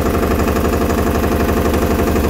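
A Massey Ferguson 5118 mini tractor engine runs at a steady, loud, close-up chug with an even rhythmic thrum and no pauses.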